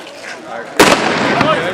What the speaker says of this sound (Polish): O, jeszcze strzelił.